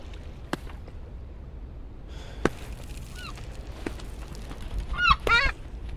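A bird in the climbing game Peaks of Yore squawks in harsh, honking bursts, a couple of short calls midway and a louder cluster near the end, with sharp clicks and quiet background between.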